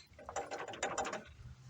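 A ratchet tightens the bolts on a car's vacuum pump, with a short close burst of rapid clicking from the pawl that rises and then fades, and no talking.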